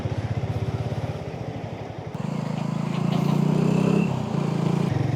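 Harley Davidson X440 motorcycle engine droning steadily while riding, with a low throbbing note that swells louder and fuller around the middle as the bike accelerates, close and continuous with wind noise.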